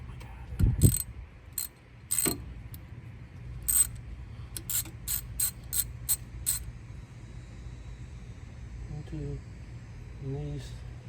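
Ratchet wrench breaking loose bolts on the aluminum oil pump of an S550 Mustang GT, heard as short bursts of rapid clicking in quick succession, close by, over a low background hum.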